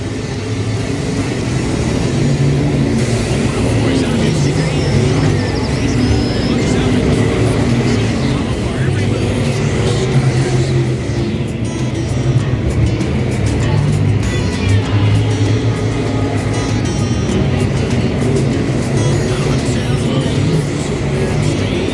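B-Mod race cars battle around a dirt track at the King of Kansas City race, their engines forming a loud, constant roar. No voices are heard.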